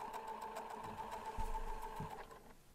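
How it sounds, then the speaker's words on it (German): A sewing machine topstitches around the edge of a fabric crossover bag, giving a steady, quiet, rapid mechanical whir with a fine rhythmic ticking and a couple of soft thumps near the end. "Einmal ringsherum entlang der Kante absteppen und Anfang und Ende, besonders das Ende der Naht, gut verriegeln."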